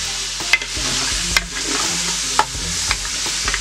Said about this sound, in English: So you see all my peppers there? We're gonna cook these down a little bit.